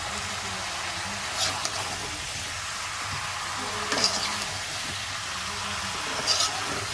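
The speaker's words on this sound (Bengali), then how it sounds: "এখন মাংস আর আলুগুলো দিয়ে ভালো করে কষাবো" Chicken pieces and new potatoes sizzle steadily in a pan with salt, cardamom, cinnamon, bay leaf and garam masala, as a continuous hiss is broken by a few louder scraping stirs of the spoon. No one speaks.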